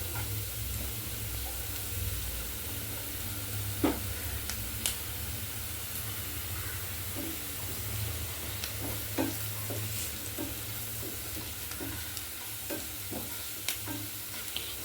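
Mysore spinach being stir-fried in a pan over low heat, producing a continuous sizzling hiss with scattered scraping clicks from stirring for the whole stretch, close by and with no talking.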